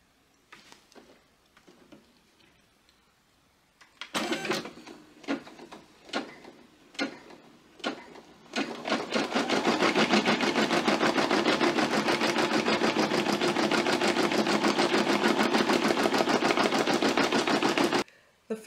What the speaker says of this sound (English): we're going to go off to the embroidery machine